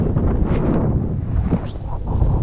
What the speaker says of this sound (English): But we have fairly good weather, a little bit windy.